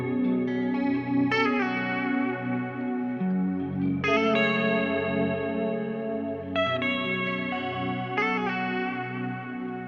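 Electric guitar plays a pentatonic melody for a chill drill beat, processed with heavy reverb, light distortion and chorus. Sustained, shimmering notes ring out and overlap steadily throughout, with no talking.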